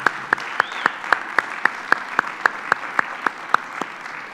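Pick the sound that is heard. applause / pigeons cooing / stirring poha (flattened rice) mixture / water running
applause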